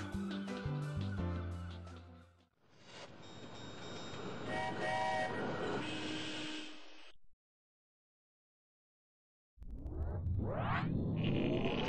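Toy train from a children's video game rolling along with a clanking rail rhythm, then a brief train whistle blast, a silent pause, and rising whistle-like toots at the end, all loud and close.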